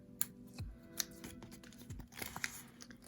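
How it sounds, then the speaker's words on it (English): Permanent craft vinyl having its backing peeled away, a soft crinkling and tearing with a few sharp crackles and ticks over about three seconds, close and fairly quiet. "we're just going to be peeling the backing off"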